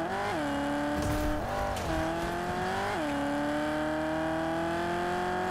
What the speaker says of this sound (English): You know, this car doesn't sound that bad.